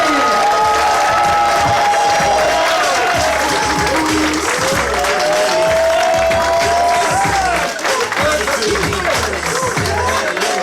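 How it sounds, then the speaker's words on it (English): A large crowd claps and cheers continuously, a dense steady roar of applause with whoops and a voice speaking over it. "Please make some noise real loud. Start clapping right now for James Nelson."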